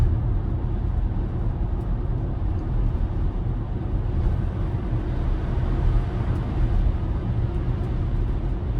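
Steady broadband road roar of a Tesla Model Y's tires rolling through wet slush in light snow, a continuous hissing wash with no voices.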